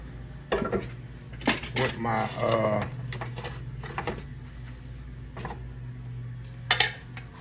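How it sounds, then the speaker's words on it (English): Metal skillet being picked up and handled on a stovetop while making Tex-Mex nachos, several clanks and scrapes of cookware and utensils with a low steady hum behind, loud clatter near the start and end. "Now let me get my skillet here with my"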